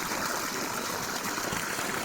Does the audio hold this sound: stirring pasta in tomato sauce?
no